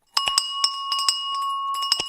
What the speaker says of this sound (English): I've got the bell right here